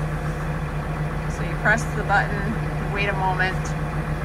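A farm tractor fitted with an electric joystick kit and load-sense hydraulics idles with a steady low engine hum throughout, while someone talks close by over it.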